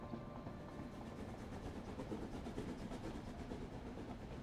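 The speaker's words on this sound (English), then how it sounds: "that sounds like a steam train to me" A steam train in the model railway game Train Yard Builder rolls steadily around its track, a continuous faint rumble with soft rhythmic clatter, heard alone without talk.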